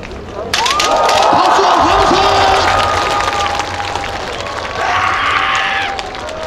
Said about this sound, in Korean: 이번에 더 큰 응원의 박수를 보내주세요.